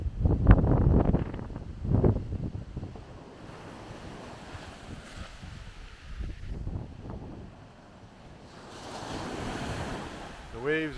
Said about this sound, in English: The waves are coming in.